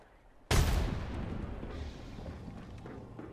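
A grenade detonates in a competitive console shooter match, a sudden loud boom with a long rumbling decay that fills the rest of the moment.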